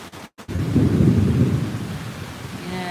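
A deep roll of thunder rumbles over steady rain, swelling after a brief crackle and then fading slowly as the rain continues.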